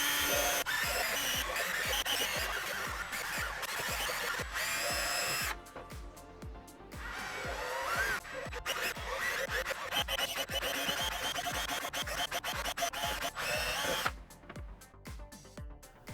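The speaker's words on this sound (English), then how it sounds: "I then drilled holes for ventilation." A power drill bores ventilation holes in a Spider-Man cosplay faceshell, with repeated short bursts of whirring and pauses between holes.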